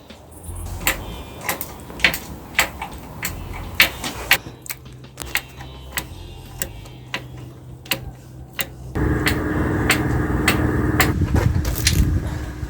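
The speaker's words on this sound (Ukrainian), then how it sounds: "Ось ми викрутили останній болтик, тепер наш стартер нічого не тримає." A ratchet wrench clicks in short rhythmic bursts while bolts are unscrewed from the starter motor of a VAZ 2101, metallic ticks repeating close by, then continuing over a louder background rumble.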